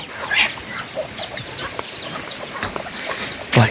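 Chickens let loose in a rice field near penned ducks, giving scattered short clucks and chirps at moderate distance over an outdoor hush, with a louder knock near the end.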